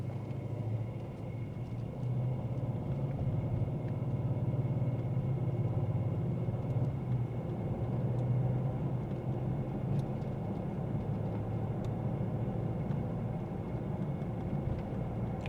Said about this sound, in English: My foot's on the brake, down in the drive, off we go.